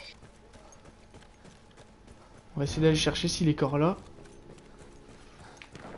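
Horse hooves clip-clop in the Battlefield 1 video game, heard beneath a burst of French speech from a player, with game background sound around them.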